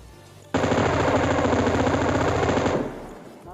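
M249 machine gun in a PUBG-style video game firing one sustained burst of about two seconds, loud and close, rapid even rhythm, then cutting off with a short tail.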